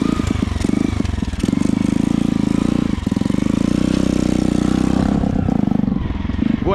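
A dirt motorcycle revving steadily on a rural trail, its engine drone loud and close throughout, rising and surging near the end; some voices mix faintly beneath.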